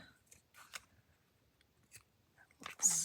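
A few quick crisp snips of scissors cutting rickrack trim for a small paper collage, close and fairly quiet, spaced apart with near silence between.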